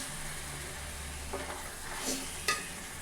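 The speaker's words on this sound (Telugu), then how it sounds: "ఒకసారి ఇలా కలుపుకుందామండి స్లోగా కలుపుకోవాలండి లేకపోతే చేపలు అయితే ఇడిపోతాయి" A spoon gently stirs pandugappa fish curry in a pot, giving a few soft scrapes and clinks over a faint simmer, quiet and close.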